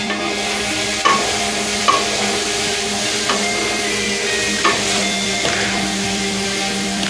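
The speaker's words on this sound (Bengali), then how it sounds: "পটলটা প্রায় ভাজা ভাজা হয়ে এসেছে" Pointed gourd (potol) frying in a pan, a steady loud sizzle with occasional stirring scrapes and small clicks throughout.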